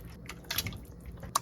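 Pork ribs rinsed in water, giving soft sporadic drips, splashes and squishy liquid sounds, close and quiet, with no talking.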